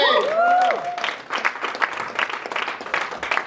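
Audience applause at a stand-up comedy show in a small theatre: steady, moderately loud clapping from a crowd, with a voice briefly speaking over the start.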